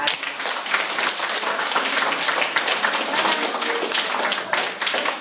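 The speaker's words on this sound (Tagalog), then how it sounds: "isang malakas na palakpak sa atin" Graduation audience breaking into strong applause, a dense, even wash of many hands clapping for several seconds without pause, fairly distant in a large room.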